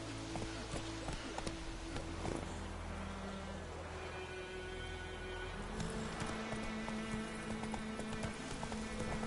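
Geralt's horse Roach gallops in the video game The Witcher 3, its hooves beating a quick, steady clip-clop over a layered bed of game music and ambience, moderately close.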